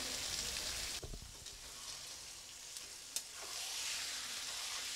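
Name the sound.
stirring mushrooms with tomato, soy and chilli sauce in a pan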